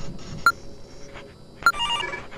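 A telephone ringing in a Five Nights at Freddy's fan game, two short bright electronic rings about a second apart, fairly clear over a low background hum.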